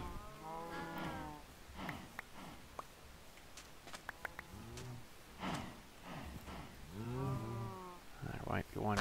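Cows mooing in the Minecraft video game, several drawn-out game moos rising and falling across the stretch at steady loudness, with small clicks and taps in between.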